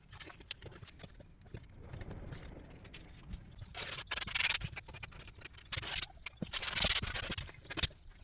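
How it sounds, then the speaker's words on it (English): Steady abrasive rubbing of sandpaper on a plywood or MDF scroll-saw cutout, in rhythmic strokes that grow louder partway through, close up. "we've given it a general sanding down, just to clear all those little fuzzies off the back there"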